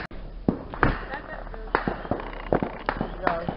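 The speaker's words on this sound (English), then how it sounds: "Got a Roman candle." A handheld Roman candle firework fires outdoors, a series of sharp pops spaced roughly every half second to second, loud and close, with a steady low hum underneath.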